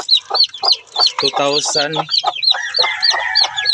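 Several free-range native chickens clucking and squawking close by, rapid overlapping calls with a brief louder cackle in the middle.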